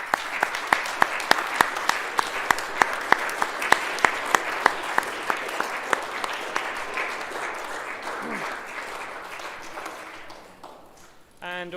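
An audience at a school end-of-term assembly gives a sustained round of applause, with dense clapping that gradually thins and fades toward the end.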